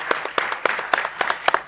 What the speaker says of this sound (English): I want to give them a round of applause and say thank you so much